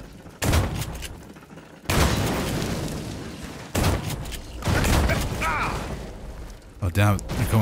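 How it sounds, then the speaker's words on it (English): Enemies in System Shock Remake blow up in a series of loud, close explosions: several heavy bursts with rumbling tails, spaced a second or two apart, and a sharper crackling blast at the end. A voice talks between the bursts. "Oh, yeah, they, they explode."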